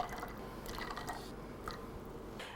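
Cranberry juice poured into a cocktail shaker, heard as a short, faint, close liquid trickle with a few small splashes and drips.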